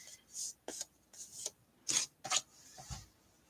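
Cardstock being scored and folded at a crafting table, a series of short dry scraping and rubbing strokes, close and fairly quiet, with pauses between them.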